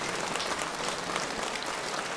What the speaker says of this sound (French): Gros applaudissements